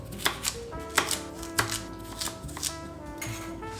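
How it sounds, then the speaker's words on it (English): A kitchen knife chops carrots on a cutting board, slicing halves into half-moon pieces; four or five sharp, distinct knocks land at uneven intervals close by, with background music running underneath and no talking. "I'm chopping up a couple of carrots, so I'll just chop them in half and then again in half moon shapes."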